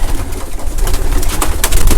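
Racing pigeons cooing and fluttering close by in a loft, with low throaty calls over a busy, rustling background of wingbeats and shuffling.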